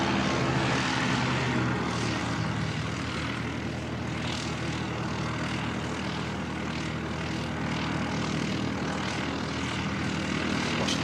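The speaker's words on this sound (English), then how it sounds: "Watching the flight to Napier head off" A propeller airliner departs for Napier from Christchurch Airport in New Zealand, a loud, sustained turboprop drone with a steady buzzing throb that stays near and constant.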